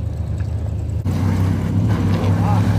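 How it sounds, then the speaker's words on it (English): Drive shaft of a 1968 Chrysler Imperial barn find making odd noises while the car is pulled free, a steady low mechanical drone with a rumbling hum that shifts and grows slightly rougher partway through, loud and continuous. "The drive shaft's making some funky noises."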